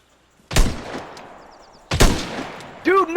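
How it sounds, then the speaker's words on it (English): Gunfire in a shooter video game with an SMG, shotgun and pistol in play: two loud, sharp shots about a second and a half apart, each trailing off in a reverberant tail, followed by a brief voice. "Oh shit! I just got shot at."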